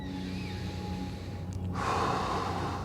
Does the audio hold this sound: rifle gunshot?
no